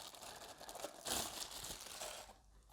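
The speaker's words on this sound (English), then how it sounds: "Let's take it out of the cellophane." Cellophane wrapping crinkles and tears as a new car charger is pulled from its packaging, a close, quiet run of crackly rustles with a brief louder burst partway through.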